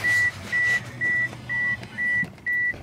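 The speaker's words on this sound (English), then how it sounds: "Beep is pissing me off." Six even, clear electronic beeps ring out at a steady pace of about two per second, loud and alone, during a car audio test comparing Pioneer and Power Bass 6.5-inch speakers.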